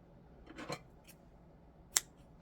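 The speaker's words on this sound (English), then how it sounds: "snip the yarn" Scissors snipping knitting yarn during a loom-knitting project: a couple of soft cuts, then one crisp, close snip near the end, in an otherwise quiet room.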